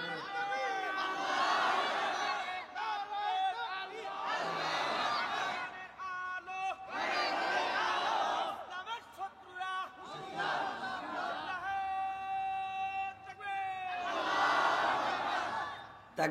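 A large crowd at a religious gathering shouts the takbir chant in loud, drawn-out, voiced waves that repeat every few seconds, with a babble of voices in the short gaps.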